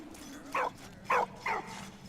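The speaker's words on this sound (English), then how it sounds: "What's with the dog? He seems to be happy about us." A dog in the Valiant Hearts video game gives three short, bright yips or barks, spaced about half a second apart, moderately loud over a low background hum.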